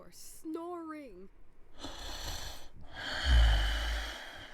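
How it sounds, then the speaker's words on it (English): Heavy, snorting breaths rasp in and out in two long drawn pulses, close and fairly loud, after a brief burst of voice at the start. "You are snoring."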